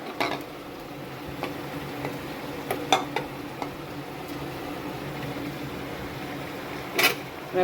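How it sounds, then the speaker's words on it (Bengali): A spoon stirs chicken with spices in a pressure cooker pot, making sparse scrapes and a few sharp clinks against the metal over a low, steady kitchen hum. "ভালো করে নাড়াচাড়া করবো এটাকে।"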